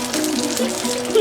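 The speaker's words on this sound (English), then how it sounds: "Pour coffee in the oil." Coffee hitting hot cooking oil in a pan on a stove, a steady hissing sizzle with bubbling throughout, swelling slightly louder at the end.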